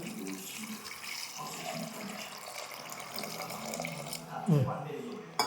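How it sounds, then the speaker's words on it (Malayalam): Water pours steadily into a bowl of leftover rice for pazhankanji with a soft splashing rush, while someone talks over it. "വെള്ളം പോലെ കുറച്ചും കൂടി ഒഴിക്കുന്നുണ്ട്"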